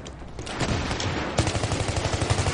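Dense gunfire in Battlefield 3 multiplayer, rapid bursts of shots close by, swelling into a sustained, rhythmic volley with no voices over it.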